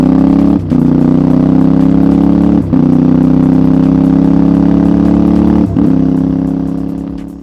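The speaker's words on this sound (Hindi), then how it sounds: "इस बाइक का पैरेलल ट्विन इंजन इसको एक बहुत ही बेसी साउंड देता है" A loud, deep CFMoto 450 MT parallel-twin motorcycle engine revs steadily up close, briefly dropping off three times between gear shifts before fading at the end.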